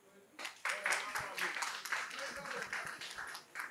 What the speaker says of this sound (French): nous devons applaudir